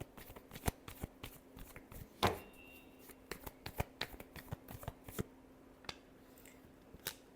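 Deck of tarot-style cards being shuffled by hand, with quiet, uneven riffles and soft slaps and a few sharper flicks, close and faint with no voice over it.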